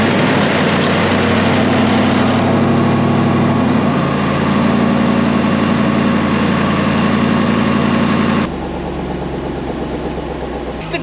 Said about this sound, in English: She did something right, and she's still got a good exhaust tone.